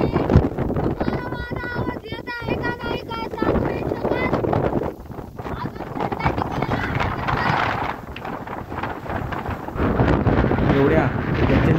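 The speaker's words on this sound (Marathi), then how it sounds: "या ठिकाणी खूप मोठ्या प्रमाणात वारा वाहतो" Strong wind buffets the microphone high on the exposed ridge of Jangli Jaygad hill fort near Patan, Satara, a loud continuous roar and rumble that surges and dips throughout.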